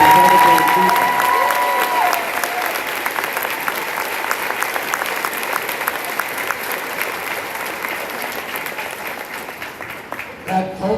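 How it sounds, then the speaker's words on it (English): Loud applause from a concert audience at a massed band school concert, starting strong with some cheering and gradually tapering off over several seconds. "Let's give them a huge round of applause for the incredible achievement."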